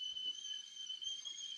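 A small blue kettle whistles with a steady, high, sustained tone, fairly faint, with a few soft clinks and rustles beneath it.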